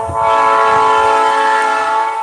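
A train passes close by, its loud sustained horn chord of several steady tones sounding alone over low rumble for a couple of seconds.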